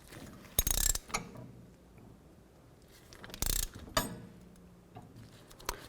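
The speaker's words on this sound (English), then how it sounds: "And as I tighten this up, it's gonna compress the piston." A tool being tightened to compress the rear brake caliper piston on a 2009-15 Toyota Prius gives a few sharp ratcheting clicks and mechanical creaks, separated by quiet pauses.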